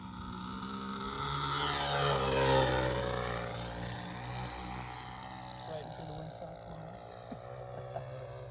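The buzzing small engine of a Sig Four Star model airplane in flight drones steadily, rising and swelling then easing off as it passes, with faint wind noise throughout.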